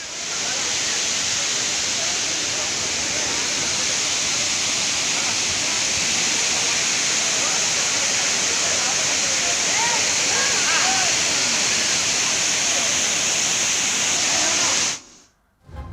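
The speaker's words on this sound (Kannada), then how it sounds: "ಚಿಕ್ಕಮಗಳೂರಿನ ಮುಳ್ಳಯ್ಯನಗಿರಿ ತಪ್ಪಲಿನಲ್ಲಿ ಝರಿ ಫಾಲ್ಸ್ ವೈಭವಕ್ಕೆ ಪ್ರವಾಸಿಗರು ಮನಸೋತಿದ್ದಾರೆ." Jhari Falls in the foothills of Mullayanagiri, Chikkamagaluru, swollen by heavy monsoon rain in the Western Ghats, roars as a dense, continuous wash of falling water that cuts off abruptly near the end.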